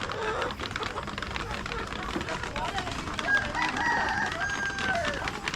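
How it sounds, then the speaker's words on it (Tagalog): Chickens in a poultry coop on a farm cluck steadily while a rooster crows a couple of times, with a dense, close barnyard bed of bird noise throughout. "So, ara ato ang manukan diri."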